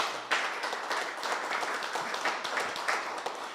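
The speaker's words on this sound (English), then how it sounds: "A round of applause" Audience at a grand opening applauding, a brief burst of many hands clapping at steady, moderate volume from start to finish.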